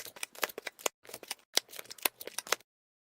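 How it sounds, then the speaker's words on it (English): Quick bursts of clicky typing accompany an intro graphic, a rapid irregular patter of keystroke-like taps lasting a couple of seconds before stopping abruptly, with no talking. "There's some new typing sounds, man."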